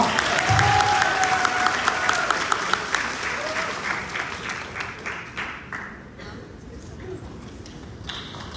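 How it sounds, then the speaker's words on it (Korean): An audience at a student economics symposium applauds to welcome keynote speakers. The dense clapping starts strong, then gradually thins and fades, and a voice can be heard over it. "큰 박수로 맞아주세요"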